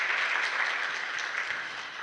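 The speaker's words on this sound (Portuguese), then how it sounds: "Nosso aplauso ao nosso grupo de painelistas." Steady audience applause at a seminar on childhood and inequality, greeting a panel of speakers: dense, even clapping that fills the short stretch without pause and with no talk over it.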